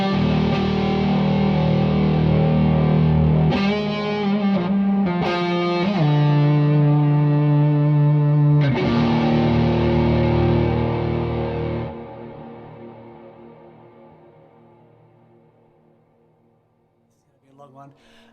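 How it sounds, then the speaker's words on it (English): Electric guitar through an overdrive pedal placed ahead of a volume pedal: loud, saturated sustained chords ringing out, a couple of restruck chords, then a long swell-down fade to near silence, with no talking. "we get this amazing overdrive sound"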